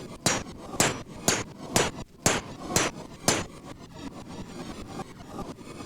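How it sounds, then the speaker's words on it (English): Minecraft mob crusher trap running in the game, giving a series of about eight sharp, loud, evenly spaced thudding hits, followed by a fainter continuing rumble. "So now we use the crusher."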